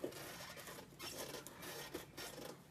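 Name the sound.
screwdriver slipping on rusted gas stove screw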